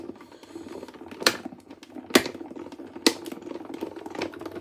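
A die-cutting machine rolling card through in one pass back and forth, a steady low mechanical whirr with a few sharp clacks spaced about a second apart, close and moderately loud.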